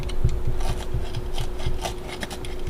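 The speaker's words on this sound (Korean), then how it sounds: "이 솜을 조금 뜯어줘야 돼요 이렇게 좀 솜을 더 뜯어서" Foam seat padding in a Torres car seat being torn and scraped out by hand, a close, steady run of dry rasping and scratchy rubbing strokes with short harder bursts.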